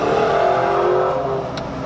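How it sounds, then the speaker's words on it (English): A Ford Mustang accelerates past on a neighborhood street, its engine note rising briefly and then fading as the car moves away, heard alone without talk. "That was a Mustang. Stupid Mustang."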